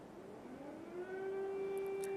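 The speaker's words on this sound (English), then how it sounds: "Sounds like air raid sirens coming through though now on some of our Kiev cams." Air raid siren coming through a live street camera in Kyiv, a distant wail that rises in pitch and then holds steady, faint under a background hum with no talk.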